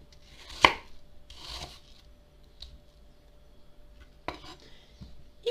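Knife chopping apples into small cubes on a board, a handful of crisp, separate strikes spaced a second or so apart, close and clear with quiet pauses between.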